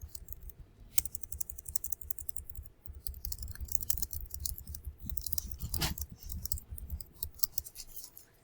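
Quick, uneven clatter of keystrokes on a computer keyboard while a document is typed in Microsoft Word, close and fairly quiet, with bursts and short pauses.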